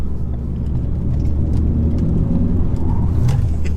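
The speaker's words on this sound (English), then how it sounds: "How can a 2-litre diesel Ford Focus be this fun to drive?" A 2016 Ford Focus ST-3 with a 2-litre diesel engine is being driven, giving a steady, loud, low engine rumble and road noise from inside the cabin, with no talking.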